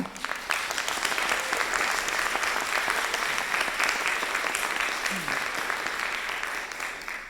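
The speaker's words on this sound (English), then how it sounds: "I'd like you all to give a round of applause to the Morgan and to Sheila in particular" Audience at a museum exhibition talk giving a round of applause, a full, steady clapping that swells early and holds, fading slightly toward the end.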